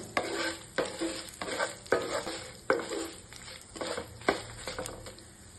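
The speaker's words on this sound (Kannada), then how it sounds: "ಮೀಡಿಯಂ ಫ್ಲೇಮಲ್ಲಿ ಇಟ್ಕೊಂಡು ಚೆನ್ನಾಗಿ ಫ್ರೈ ಮಾಡ್ಕೋಬೇಕು" Mutton curry masala frying on a medium flame, a steady sizzle broken by regular scraping strokes of a spoon stirring the pan, about every second, close and fairly quiet.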